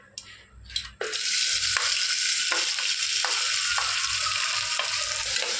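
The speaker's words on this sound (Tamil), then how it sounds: "நல்லா வெங்காயம் வதங்கணும். கோல்டன் ப்ரௌன் வர வரைக்கும் நல்லா வறுத்துக்கோங்க." Onion fries in hot oil with popped cumin and mustard seeds, a loud, dense, continuous sizzle that bursts in after a few spoon clinks, with occasional stirring scrapes against the pan.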